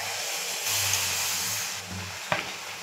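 Pitha batter of semolina and flour sizzles in hot oil and ghee in a small kadai, giving a steady hiss that swells when the batter goes in and ends with a brief clatter near the close.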